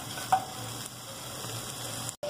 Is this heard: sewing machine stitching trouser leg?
no